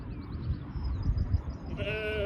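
A young lamb bleats repeatedly, calling for its mother near a lambing shed, its thin wavering cries close and clear over soft farmyard background noise.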